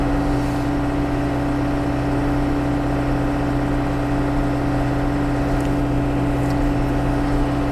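A tractor engine drives through snow with a steady, loud, unchanging drone and hum throughout, no voices.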